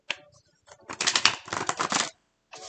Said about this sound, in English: Oopsie, that's loud, right? That's why I don't shuffle on camera.